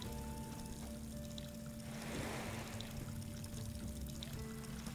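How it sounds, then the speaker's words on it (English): Steady, soft rushing of water fills a laundry area in a haunted island video game, a faint continuous pouring wash with no voices. "Oh, shiver down my spine from the water sounds there."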